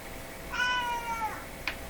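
A cat meows once in a drawn-out, wavering call indoors near a tube radio being aligned, followed by a short faint chirp, with no talking.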